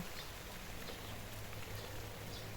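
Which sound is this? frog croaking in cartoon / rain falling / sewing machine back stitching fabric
rain falling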